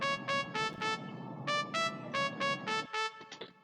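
A synthesized trumpet patch in FL Studio plays a rhythmic run of short, bright brass stabs, evenly spaced and clear, ending in a few quicker, fading notes.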